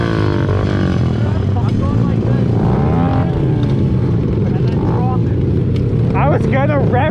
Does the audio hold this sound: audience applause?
no